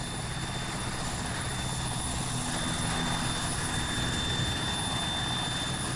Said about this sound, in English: This helicopter should take me to where I told it to.